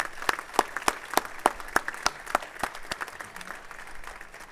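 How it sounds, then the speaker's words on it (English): Audience applause at a college learning resource center ribbon cutting ceremony, a modest crowd clapping steadily with a few distinct sharp claps standing out, fairly near and fading slightly toward the end. "Let's give them a round of applause"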